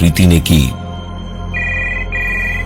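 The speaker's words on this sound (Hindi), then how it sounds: "प्रीति ने जाकर फोन उठाया" In a Hindi horror-story audio drama, a voice speaks briefly, then a telephone rings in two short, bright electronic bursts against a quiet background.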